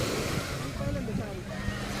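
Ocean surf washes in a steady broadband rush at a Dubai beach, mixed with wind noise, while people talk over it.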